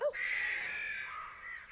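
Crows cawing in a played movie trailer, one loud, near, drawn-out harsh caw lasting over a second, alone without talk.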